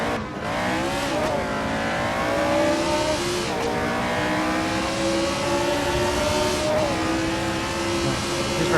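Engines of 1967 Tasman Series open-wheel race cars rev steadily at the New Zealand Grand Prix circuit at Pukekohe in Assetto Corsa, a loud, sustained whine that climbs and shifts through gears, with brief talking underneath.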